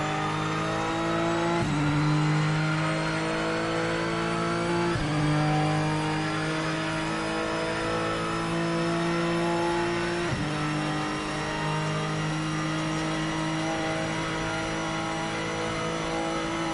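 A race car engine in the Project Motor Racing video game revs loud and continuous, its pitch climbing and then dropping sharply at gear shifts about every few seconds, with no talk over it.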